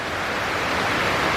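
Heavy rain from a tropical depression pours down house gutters in a brief, loud, steady rush of splashing water with no voices.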